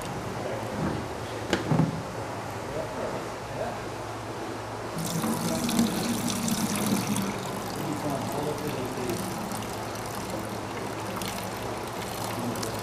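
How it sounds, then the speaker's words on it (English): Fresh water pouring and splashing while fertilized Henry's Lake trout eggs are rinsed during spawning, a steady running-tap rush that grows louder partway through, with a person talking over it. "Rinse the eggs real carefully."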